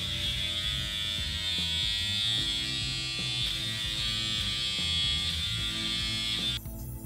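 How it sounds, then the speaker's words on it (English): Electric beard trimmer with a pivoting head buzzing steadily while trimming a beard during a grooming routine, a close, continuous motor hum with slight shifts in pitch as it moves, stopping near the end. "So when you're trimming your beard, you just want to go with the grain."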